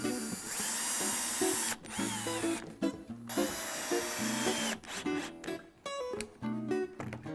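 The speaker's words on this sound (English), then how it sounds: "center the remaining 2 braces and attach together with screws." A power drill drives screws into pine braces on a chair build, loud whining bursts rising as each screw goes in, stopping and restarting several times in close succession.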